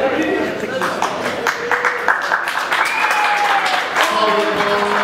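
Applause breaks out at a darts league prize ceremony as the women's runner-up is called, a room of people clapping warmly and fairly close while an announcer's voice carries over it.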